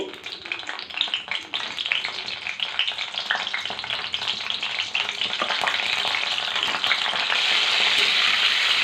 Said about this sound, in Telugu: నూనె వంకాయలు వేసుకున్నామండి నూనె కాగింది